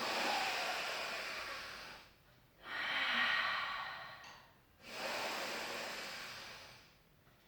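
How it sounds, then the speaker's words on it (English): Slow, soft breaths drawn in and let out during a beginners' Pilates exercise, three long airy swells separated by brief quiet pauses, faint and close. "Take a breath in."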